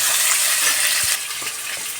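Capsicum fries in a pan for lemon rice, giving a steady, bright sizzling hiss that eases slightly partway through, with a few faint clicks and no talking.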